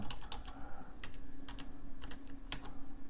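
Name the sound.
typing on a keyboard for an IMSAI 8080 replica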